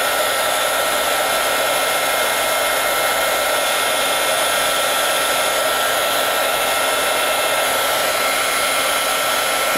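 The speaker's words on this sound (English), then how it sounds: "Now I'm going to turn my heat tool on, so it's going to be noisy." A heat tool blows hot air over embossing marker splatter in a loud, constant whooshing roar right up close, steady throughout with no voices.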